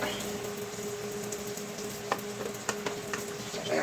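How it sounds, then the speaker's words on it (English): Mushrooms browning in a pan give a soft, steady sizzle with a few sharp utensil taps and scrapes near the end, fairly quiet throughout. "we're just going to fry that till we get a nice browning on there"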